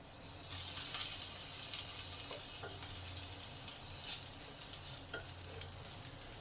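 Ridge gourd and potatoes fry in a pan with a steady, close sizzle, broken by repeated scraping stirs of a spatula through the vegetables; no one speaks.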